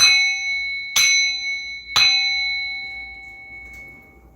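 A metal bell is struck three times about a second apart, each ring a bright clang followed by a long, pure, ringing sustain that slowly fades in a quiet room.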